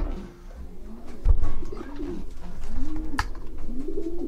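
Young racing pigeons coo repeatedly close by, soft rolling calls rising and falling over a low murmur of shuffling and wing movement in a loft or basket.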